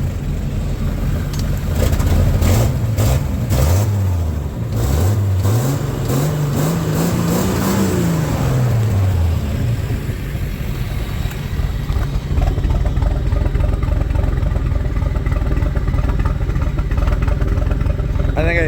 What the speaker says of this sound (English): we also got the Duramax sounds.